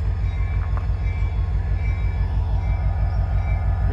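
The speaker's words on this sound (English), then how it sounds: "Here's CSX W425 welded rail train right here." A CSX W425 welded rail train rolls by slowly, a loud, close, continuous low rumble of wheels and cars with faint metallic squeal tones above it.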